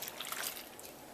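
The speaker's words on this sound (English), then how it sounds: "First, I'm going to add my water" Water poured into a mixing bowl for a no-knead bread dough, a steady splashing trickle with a few drip-like accents, close and fairly quiet, lasting about a second with no talking.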